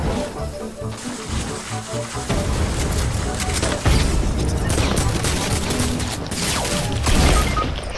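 Fortnite gunfire, a dense stream of overlapping shots and bursts continuing for several seconds with occasional heavier booms. Game music or ambience and a voice sit underneath.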